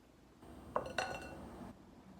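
Utensils clink twice against a bowl while eggs are mixed for Cookie Monster cookies, two sharp close metallic taps in an otherwise quiet kitchen.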